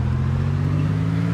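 An old Russian GAZ Volga car in the video game Arma 2 DayZ drones with a loud, steady mid-pitched engine hum, unbroken and close throughout.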